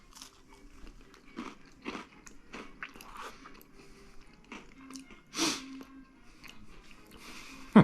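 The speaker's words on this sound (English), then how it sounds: "try a bite of the cracker" Close, quiet bites and crunching of dry vegetable crackers from a humanitarian daily ration, a series of irregular crisp crunches with soft chewing in between.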